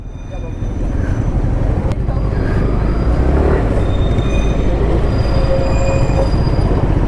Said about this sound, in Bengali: দেখো রংটংয়ের সামনে টয় ট্রেন দেখতে পেলাম